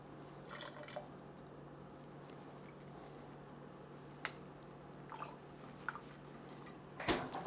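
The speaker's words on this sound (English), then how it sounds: "I'm gonna strain our Mojito down inside." A shaken mojito strained over long ice cubes into a Collins glass: soft liquid trickles and drips, with a few sharp clinks of ice and glass, close and fairly quiet.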